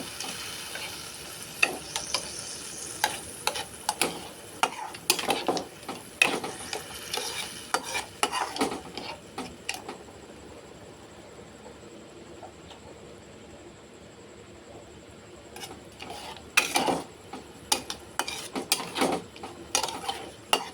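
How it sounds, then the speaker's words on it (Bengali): Drumstick-stem pickle being stirred and fried in a pan, with a soft continuous sizzle under frequent scraping strokes of a spoon against the metal, close and moderately loud, pausing briefly midway before the stirring resumes. "এবার এটাকে ধীরে ধীরে নাড়তে থাকবো, ভালো করে কষে নেব।"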